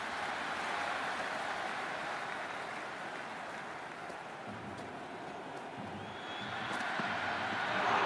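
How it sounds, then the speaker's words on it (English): A stadium crowd at an RCB vs GT IPL qualifier cricket match makes a dense, distant wash of cheering noise that stays steady, then swells louder toward the end, with no clear talk. "The crowd is electric right now."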